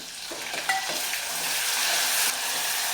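Ginger, garlic, coriander and chilli paste frying with onion in a pan for a Konkani prawn curry, a close, steady sizzle with a few brief stirring clinks near the start.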